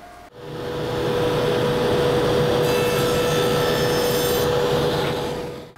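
A power tool cuts tenons on walnut side and back rails in one loud steady whirring pass of about five seconds, starting and stopping cleanly.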